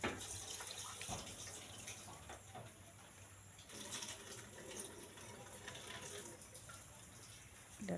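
Water runs from a tap while lentils are rinsed and swished by hand in a bowl, a quiet, uneven splashing and gushing throughout.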